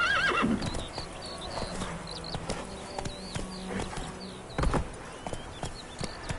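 Roach, a horse in The Witcher 3, gallops with quick rhythmic clip-clop hoofbeats and lets out a shrill whinny near the start, plus another loud neigh around the middle, with faint game ambience beneath.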